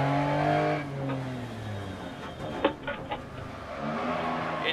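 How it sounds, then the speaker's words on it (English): Rally car engine in Dirt Rally VR on a snowy stage: a revving motor with rising and falling harmonic tones, shifting pitch as it accelerates, with a few sharp clicks midway and no talking. "I love the sound of this car"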